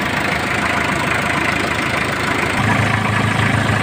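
Engine idling steadily and loudly up close while oil sprays out of the dipstick tube, a dense continuous rumble with no pauses.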